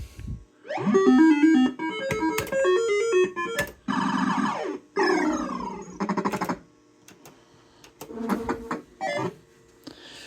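A 1988 JPM Fast Trak MPS2 fruit machine plays a run of electronic tones: fast rising and falling beeping melodies and arpeggio sweeps in bursts, broken by short pauses, close and fairly loud with no talking.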